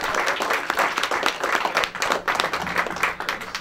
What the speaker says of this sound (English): How about a round of applause for Bobby Doohan, the Up and Over crew.